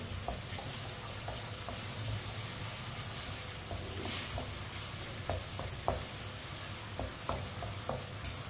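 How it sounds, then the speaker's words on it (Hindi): Steady sizzling of chopped onions and garlic frying in hot oil, with occasional clinks and scrapes of a spoon stirring the pan, no voices. "लहसुन और प्याज को 2 मिनट के लिए पका लेंगे"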